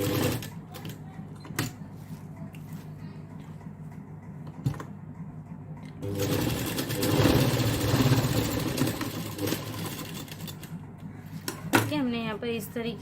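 A sewing machine stitching a sleeve onto a padded mirror-work blouse, a close, rapid mechanical rattle running for several seconds mid-clip between quieter handling sounds, with someone speaking over parts of it.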